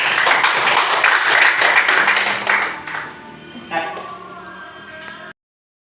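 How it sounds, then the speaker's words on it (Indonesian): Class of students clapping hands together in a loud burst that fades after a few seconds, followed by a teacher talking. "Kita tepuk tangan dulu."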